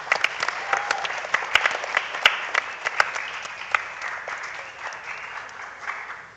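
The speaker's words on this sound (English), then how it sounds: "She deserves a big round of applause." A school quiz audience gives a sustained round of applause, dense clapping that starts strong and slowly thins out toward the end, with no talk over it.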